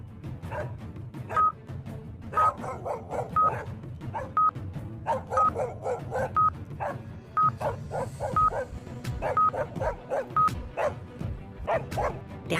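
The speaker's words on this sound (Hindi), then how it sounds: "ब्रेवो के पीछे बहुत सारे जंगली कुत्ते लगे हुए थे।" Several dogs bark and yip repeatedly in short bursts, loud and close, while a regular electronic beep sounds alongside and an occasional whimper comes through.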